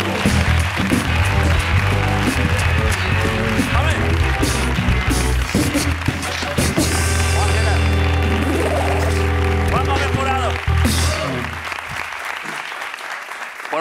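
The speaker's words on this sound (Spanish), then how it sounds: "Un aplauso para Juan Gómez Jurado." A studio audience applauds during a Spanish late-night talk show interview, sustained loud clapping and cheering with music underneath that fades toward the end.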